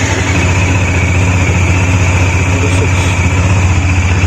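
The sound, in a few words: Bajaj Dominar 400 motorcycle engine idling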